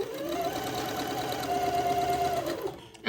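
A sewing machine stitches basting threads into bonnet fabric with a close, steady rapid whirring hum that runs for nearly three seconds and then stops.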